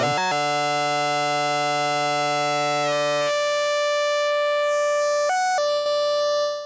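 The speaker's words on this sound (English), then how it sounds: "So you can hear these oscillators have got these new ones, especially, have got enormous range within" Arturia MicroFreak 3.0 synthesizer oscillators run through an EHX Mod Rex, giving loud sustained buzzy harmonic tones that step between pitches, holding one long note before shifting through several brighter, shorter held notes with no talking.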